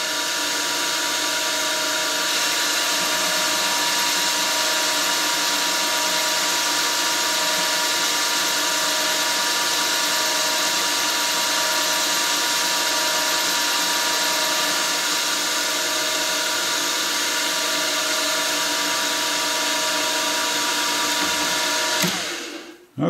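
A milling machine with a power feed runs a light finishing pass at 580, a steady, even motor and cutting whine held for over twenty seconds before winding down at the end.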